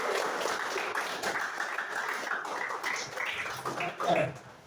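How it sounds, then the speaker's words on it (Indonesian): Classroom audience applause during a teacher performance assessment session, a steady wash of many hands clapping at moderate level throughout, slightly distant, with a brief louder swell near the end. "Tepuk tangan untuk semuanya."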